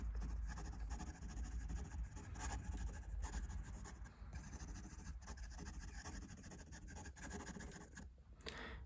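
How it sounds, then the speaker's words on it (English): Franklin Christoph Pocket 66 fountain pen writing quickly on paper, a steady close scratching and rubbing of the nib that runs continuously with no talk. "Quick writing."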